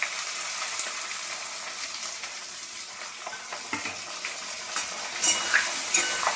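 Onions fry in oil with bay leaves and green chillies in a pan for chicken kosha, giving a continuous soft sizzle, with a spoon scraping and stirring and a few clinks toward the end.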